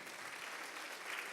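Congregation applauding during a church service, a steady dense wash of clapping that stays even and moderately loud throughout with no voices standing out.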